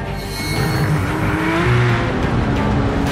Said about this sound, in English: This is the star of the show, a 4-litre masterpiece, the biggest 911 engine ever.